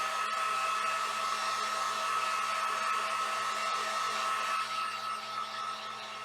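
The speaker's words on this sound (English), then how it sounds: "I'm going to use my heat gun to dry this." Heat gun blowing hot air to dry paint on an Easter garland for a dough bowl, a steady, close, loud whooshing hiss that holds evenly throughout with no talking.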